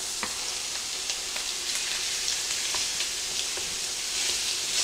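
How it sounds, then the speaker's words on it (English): Sausage and chopped vegetables sizzle together in a pot, with a steady crackling fry and occasional sharp pops, close and continuous with no talking. "I'm just going to go ahead and add it to the sausage so that it all cooks together."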